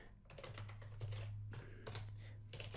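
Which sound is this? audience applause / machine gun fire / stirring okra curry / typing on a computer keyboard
typing on a computer keyboard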